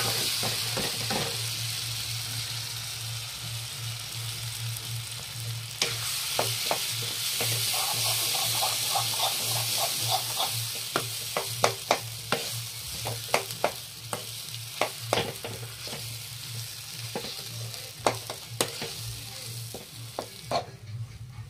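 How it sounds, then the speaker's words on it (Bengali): Lentil paste fries in a pan with a steady sizzle while a utensil stirs and scrapes against it, sharp clicks and taps growing more frequent toward the end; close, with no talk. "এবারে এই ডাল বাটাটা এটাতে দিয়া আরো কিছুক্ষণ ফ্রাই করে নেব ভালো করে"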